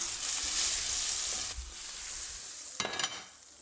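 Chicken sautés in a reused pan for a Turkish dinner, a loud steady sizzle and hiss of frying that eases off, followed by a few sharp clinks of stirring near the end.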